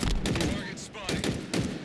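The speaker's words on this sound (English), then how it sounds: "In a hail of gunfire." Dense, rapid gunfire crackles continuously in the video game Halo, with bursts of shots layered over one another in a busy, loud exchange.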